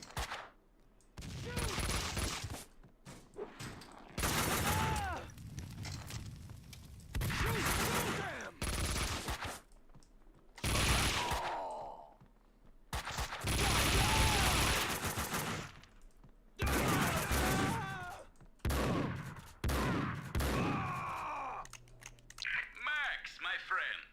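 Rapid bursts of automatic gunfire in the video game Max Payne, loud clustered volleys separated by short gaps, with someone talking between and over the shots.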